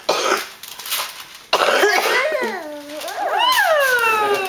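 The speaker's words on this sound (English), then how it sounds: "Sorry for the coughing, kids." A person with a cold coughs and clears their throat in a couple of harsh bursts, followed by high, wavering vocal sounds, recorded close and fairly loud in a home setting.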